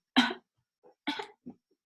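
Two sharp coughs close by, a strong one then a second after a short pause, followed by a small wheezy breath.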